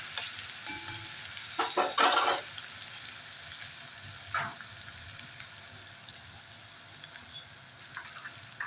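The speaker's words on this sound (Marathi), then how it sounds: "आता या तेलात थोडंसं मी लाल तिखट घालून घेत आहे" Red chili powder drops into hot oil in a pan for egg curry, giving a steady low sizzle with a few brief scraping stirs early on, close but fairly quiet.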